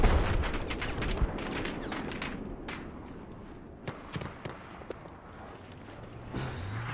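Heavy gunfire in a military video game battle: dense bursts of rapid shots at the start thin out into scattered single cracks and distant booms over a steady rumble, with no talk.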